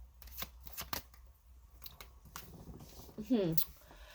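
Tarot cards being shuffled by hand, a series of quick riffling and slapping bursts up close, with a voice speaking briefly near the end.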